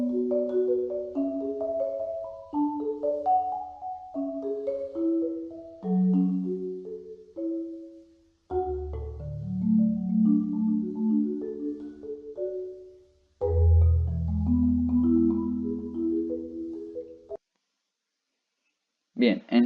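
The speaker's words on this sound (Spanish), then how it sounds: "Vamos a encontrar primero que todo la marimba, que es un idiófono percutido, y suena así." Marimba, a struck wooden percussion idiophone, plays a series of mallet notes in melodic runs and overlapping chords, ringing clearly and alone with brief pauses between phrases.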